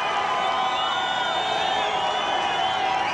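Stadium crowd at a 1996 rugby league match between the Western Reds and Manly Sea Eagles in Perth, a continuous distant roar and cheering, steady throughout.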